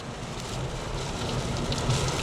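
Steady, soft rain hisses against the road and the vehicle while it drives across Camelback Bridge near Harrisburg, Pennsylvania, a continuous quiet wash with no voices.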